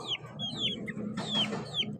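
A few quick clucks and squawks from two hens and two roosters, close by, repeating in short bursts over a low hum.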